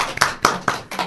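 A few scattered claps, roughly four separate bursts spaced evenly apart, close and moderately loud, as a small audience responds at a Korean science talk about Earth's cosmic address.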